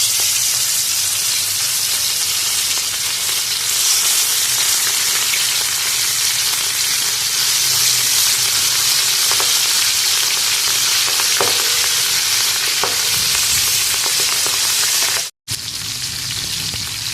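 Fish fries in hot ghee on a tawa with a continuous loud sizzle and steamy hiss, occasional stirring and spatula clicks, cut by a brief gap near the end.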